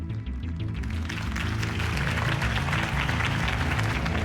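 Sustained applause from a large crowd in the video game Batman: The Telltale Series, dense steady clapping that fills the whole stretch at a fairly loud level with no voices standing out.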